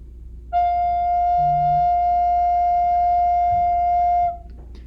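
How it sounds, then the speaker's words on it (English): A single sustained recorder note, F, held steady for about four seconds, clear and pure-toned, played alone up close. "And that F's just going to sound like this."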